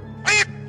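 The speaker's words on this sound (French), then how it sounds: "ça cancane comme un canard" One short, loud duck quack sounds as an isolated sound effect against a quiet, humming background.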